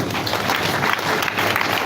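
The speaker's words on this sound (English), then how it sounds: "Please, a round of applause once for him." An online verification-day event audience gives a round of applause, a full, continuous burst of many clapping hands that holds steady throughout.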